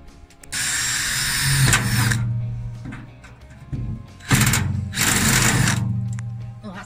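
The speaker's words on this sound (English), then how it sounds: "Just drill some holes in now." A power drill whines loudly through the metal of an old wheelbarrow in two long bursts, spinning down between them, with faint rattling and handling noise in the pause.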